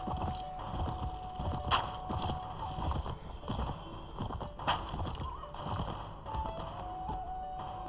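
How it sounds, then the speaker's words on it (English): Horses in the medieval combat game Mount & Blade neigh and clop their hooves amid a busy battle mix of thuds and clashes, with a whinny rising near the middle and another toward the end. "Boris, what would it cost to hit the damned horse?"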